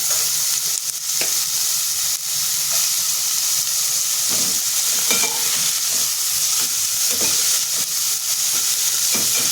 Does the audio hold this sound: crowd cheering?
no